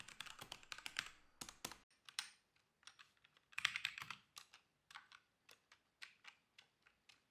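Someone types on a mechanical computer keyboard, with clustered rapid keystrokes that break into sparser, separate clacks, close and crisp in a quiet room with no talking.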